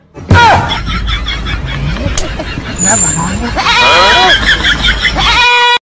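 Several goat bleats ring out close and loud, wavering calls repeated across a few seconds amid background chatter and livestock noise.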